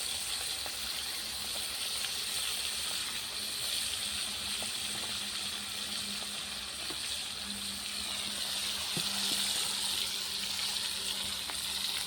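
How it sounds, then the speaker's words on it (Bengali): Spice-coated baacha fish fry in hot oil in a pan over a clay stove, giving a soft, steady sizzle and hiss with occasional faint pops and stirring sounds. "একটু ভাজা ভাজা করে নেব।"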